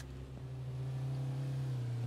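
A car engine in the survival game H1Z1 hums at a steady, moderate idle-to-rev drone, low and continuous with a faint rising tone, no speech over it.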